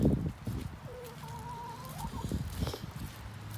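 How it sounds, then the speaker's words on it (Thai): Chickens cluck and chatter close by while feeding in the morning, with a rising birdlike call in the middle and soft rustling throughout. "มาให้อาหารไก่ตอนเช้า"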